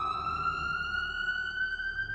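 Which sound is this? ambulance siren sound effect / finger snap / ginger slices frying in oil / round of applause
ambulance siren sound effect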